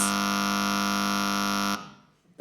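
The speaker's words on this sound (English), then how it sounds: "that was the longest buzzer we've had." A long, loud game show buzzer blares as one steady harsh electronic tone for nearly two seconds, then cuts off abruptly into quiet room noise.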